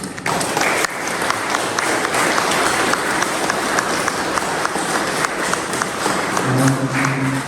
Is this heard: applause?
yes